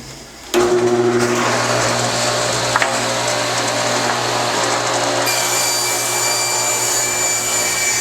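A power saw rips a cedar board lengthwise, its steady loud whine starting abruptly and holding through the cut, with a shift in pitch near the end as the blade clears the wood.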